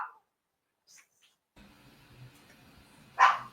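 Small dog barking at horses passing by, a few short yips and one sharp louder bark near the end, heard amid quiet background noise.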